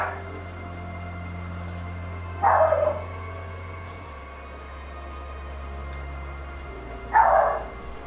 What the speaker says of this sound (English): Doggy Dog is back